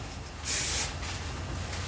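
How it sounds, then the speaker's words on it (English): A spray bottle gives one brief, bright hissing spritz of hair spray onto a partial French twist, close and clear over a quiet room. "I'm going to respray her one more time."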